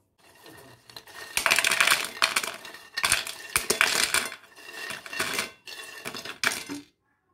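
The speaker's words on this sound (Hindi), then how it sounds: "देखिए बहुत ही क्रिस्पी शक्कर पारे बन के तैयार हो गए हैं मैं आपको इनकी आवाज़ सुनाती हूँ" Crispy fried shakkar pare snacks rattle and clatter in bursts, with dry crunchy rustling separated by short pauses, close and moderately loud.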